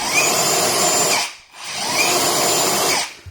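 A DeWalt DCF964N cordless impact wrench runs flat out on its third setting in two loud, close bursts of about 1.3 seconds each, split by a brief pause.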